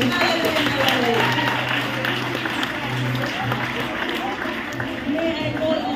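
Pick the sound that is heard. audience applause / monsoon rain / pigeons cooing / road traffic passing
audience applause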